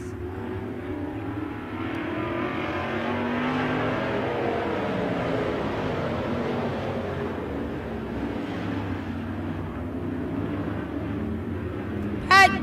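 Race cars at Emo Speedway roar steadily past at a distance, a continuous engine drone rising and falling over several seconds, with a track announcer talking over the noise.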